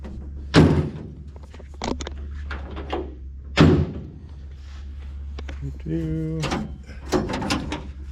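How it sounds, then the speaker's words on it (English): A 1955 Ford F100 truck's passenger door shuts with two solid thunks a few seconds apart, mixed with handling clicks and rattles, then a brief mechanical whir. "now you can open the passenger door from the outside or from the inside."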